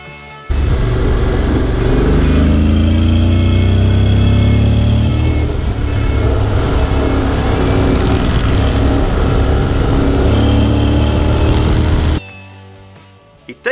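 Honda X-ADV 2021 scooter ridden along winding hill roads near Turin, engine droning loudly and rising in pitch as it accelerates, with wind noise, then abruptly dropping away near the end.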